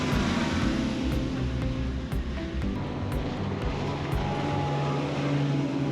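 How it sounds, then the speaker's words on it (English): Small river boats motoring past on the Intracoastal Waterway at Winyah Bay, South Carolina, early morning, giving a steady, fairly close engine drone over water with no talk. "These little river boats are having a convention or something."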